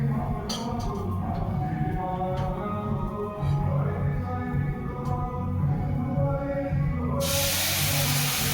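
Milk hissing as it hits a hot pan while making laccha payesh, a steady close sizzle and steam hiss that swells sharply near the end.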